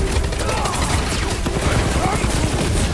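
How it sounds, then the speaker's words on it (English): Rockets and fireworks burst in rapid, crackling volleys during a fight in the Guardians of the Galaxy video game, loud and dense throughout, with dialogue woven in. "Rockets! Fireworks!"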